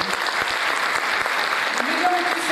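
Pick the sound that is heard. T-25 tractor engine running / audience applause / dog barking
audience applause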